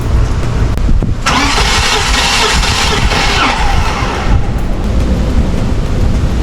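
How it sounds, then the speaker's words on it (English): A BMW E36 M3 engine cranks and fires, a loud, close starter whir catching into a rumbling idle that settles into a steady low drone; no talking. "and we'll start the car"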